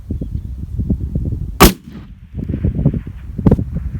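An Ata Turqua rifle fires one loud, sharp shot outdoors at a distant target 500 to 958 metres away, followed by a fainter impulsive report about two seconds later, over a steady low outdoor rumble.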